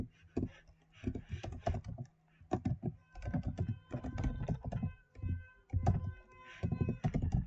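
Steady typing on a computer keyboard while writing code, with bursts of close, crisp key clicks separated by short pauses, heard alone without speech.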